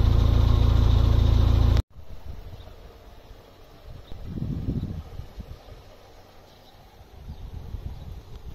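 A narrowboat engine idles at low revs on a canal, rumbling softly with gentle swells, after a brief loud burst at the start.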